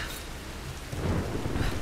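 Rolling thunder rumbles over steady rain in the 2013 Tomb Raider game, a continuous low roar with hissing downpour throughout, close and full, with no talking.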